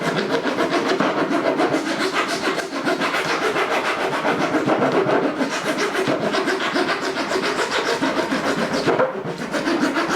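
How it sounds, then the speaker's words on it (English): A bathtub overlay piece is filed to shape a curve, giving steady, continuous rasping strokes that run close and loud almost without pause, with no talking. "Now what I'm doing here is I'm filing off to get a kind of a curve here."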